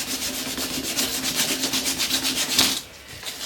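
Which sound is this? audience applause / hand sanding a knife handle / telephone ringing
hand sanding a knife handle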